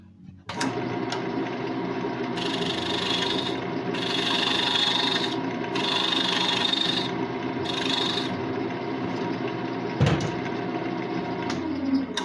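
A file rasps in repeated strokes across wooden screw threads, cutting a small chamfer at the thread start. The scraping is close and steady, with a few brief pauses and a single knock near the end.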